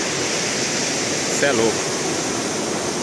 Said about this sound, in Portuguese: Cachoeira pra tudo quanto é lado.